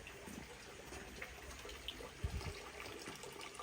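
Water runs and splashes at a stone purification basin at a Shinto shrine in Kamakura as hands are washed, a faint steady flow with a few soft bumps and spatters and no talking.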